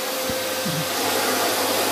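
A household vacuum cleaner runs at home, giving a steady, loud, unbroken whooshing drone throughout with no speech over it.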